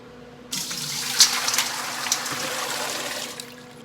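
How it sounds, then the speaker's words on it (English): Freshly strained garden vegetables are plunged into ice-cold water in a kitchen, giving a sudden rushing splash that continues as a steady, close pour of water with small clinks, and no talking. "So once you strain them, you wanna get them into ice cold water, and that's gonna stop the cooking process."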